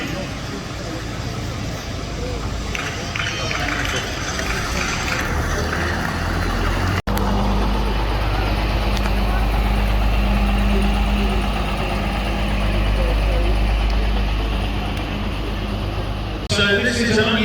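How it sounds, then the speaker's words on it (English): A German-made quality control tractor unit that once worked in quarries idles steadily throughout, a continuous low engine rumble at a City of London cart marking ceremony at Guildhall, with people talking nearby. "So this is an unusual quality control tractor unit made in Germany."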